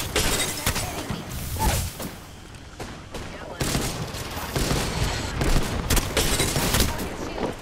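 Weapon fire in the battle royale game Apex Legends comes in rapid bursts and sharp repeated shots, with impacts and whooshes, loud and busy throughout with no break.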